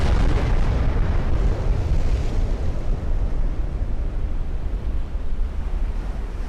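Naval shell hits and a flash fire in the Ultimate Admiral Dreadnoughts warship game, heard as a loud, sustained low rumbling roar that fades slowly, with no voices over it.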